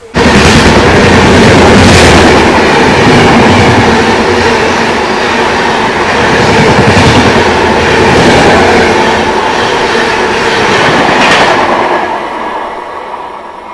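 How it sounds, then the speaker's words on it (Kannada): A loud express train rushes past close by, overtaking a stopped train, with a sustained roar and rhythmic clatter of wheels over rail joints that swells and then fades away near the end, with no talk. "ಇದು ಯಾವುದೋ ನಮ್ಮ ಟ್ರೈನ್ ಇವಾಗ ನಮ್ಗೆ ಆ್ಯಕ್ಚುಲಿ ಓವರ್ಟೇಕ್ ಮಾಡ್ಕೊಂಡು ಹೋಯ್ತು"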